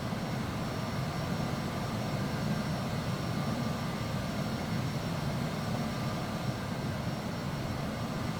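Embraer jet engines from the FSX flight simulator, taxiing: a steady, dense roar with a low rumble that holds at an even level throughout, with no talk.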